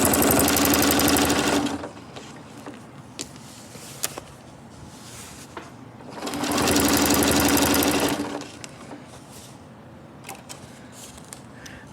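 A sewing machine stitches a Celtic knot design from point C to A in two loud, steady bursts, the first about two seconds and the second about three, with quiet handling noises between them.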